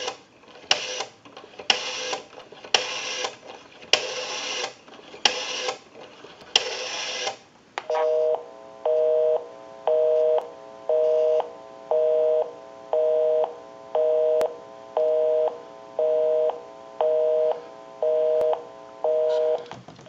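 Rattling bursts of an Automatic Electric 902 rotary wall phone dial being turned and released, followed by a steady, repeating beep-pause pattern of a busy signal.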